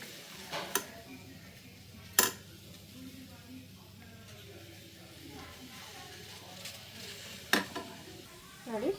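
Okra sautéed in a pan for palya, a soft low sizzle broken by a few sharp spatula scrapes and clinks against the pan, close and fairly quiet.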